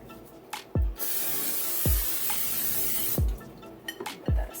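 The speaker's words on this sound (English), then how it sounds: "I'm going to spray it with any kind of non-stick butter spray." Non-stick butter spray hissing into a 9-inch pie pan in several short bursts, each a sharp airy spray close to the mic, with faint clunks of the can between.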